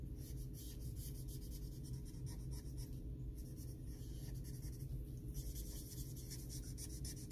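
Markers rub across paper while a fairytale princess picture is colored in, making soft, continuous scratchy strokes that are quiet and close, with short pauses between passes. No voices.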